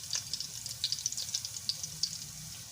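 Garlic and cumin seeds frying lightly in a pan for a spiced yogurt eggplant dish, giving a steady soft sizzle with small crackling pops throughout, faint and close, with no talking.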